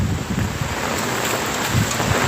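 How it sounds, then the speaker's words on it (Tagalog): Strong typhoon wind during Typhoon Paeng roars steadily and loud against the microphone with broadband buffeting, close and continuous, with no talking over it. "Lakas ng hangin."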